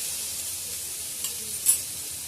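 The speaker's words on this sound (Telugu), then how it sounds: "క్యాప్సికమ్ ముక్కలు వేసుకుందాం. ఇది కాసంత మగ్గనివ్వాలి." Capsicum pieces sizzling in a pan while cooking for chutney, a steady close frying hiss with a couple of faint soft pops, no talking.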